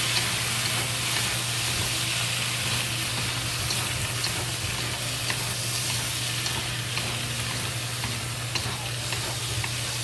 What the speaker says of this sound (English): Then quickly fry it.